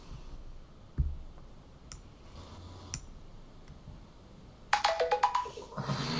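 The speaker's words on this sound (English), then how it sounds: "My phone rang and I know that bothers you" A mobile phone ringtone plays quietly through a room's low background hum, with faint clicks and tones early on, then a brighter cluster of rapid chiming notes near the end.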